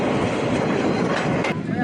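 A passenger train runs along the Chittagong to Cox's Bazar railway line in Bangladesh, a steady, loud, continuous rumble of wheels and cars rolling close by with no pause.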